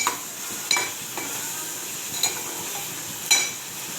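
Kantola vegetable frying in oil in a pan, with a steady soft sizzle and a few sharp clinks of a utensil against the pan as it is stirred.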